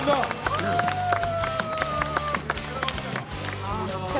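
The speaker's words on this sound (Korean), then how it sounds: "박수 드릴까요?" A small studio audience at a Korean game show featuring former pro basketball players claps and cheers for the winner, with rhythmic clapping and whoops over a thumping music beat and overlapping voices.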